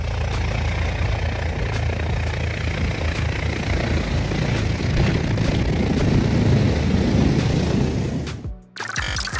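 A helicopter sweeps in over snowy ground and skids to a landing, its heavy rotor and engine roar steady and loud throughout before cutting off abruptly near the end.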